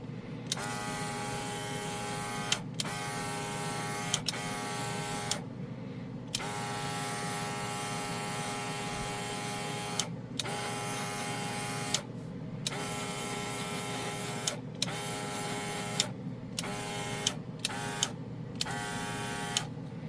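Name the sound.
all-in-one airbrush system spraying paint on a model car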